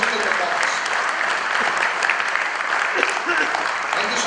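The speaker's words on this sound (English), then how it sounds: "can we have a big round of applause for this" Sustained, even applause from an audience after a musical performance at an awards ceremony, a steady dense wash of clapping held at full level throughout with no pauses.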